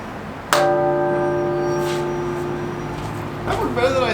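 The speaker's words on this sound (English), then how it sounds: "I rang the bell." A large bell struck once, with a sharp clang followed by a long, ringing hum of sustained tones that slowly fade, before some rustling and a voice near the end.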